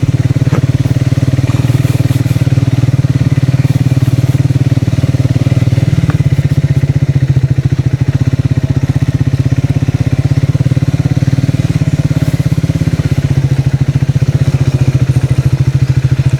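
Loud, continuous motorcycle engine thrum from the rider's own bike on a long road trip, holding a steady rapid beat with slight clatter, close and unbroken, no voices.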